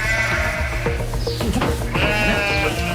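Sheep bleat on a Welsh farm, several overlapping wavering calls close by, loud and continuous with a few sharper cries breaking through in the middle, no talk over them.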